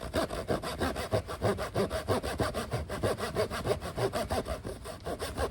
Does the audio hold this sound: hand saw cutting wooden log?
yes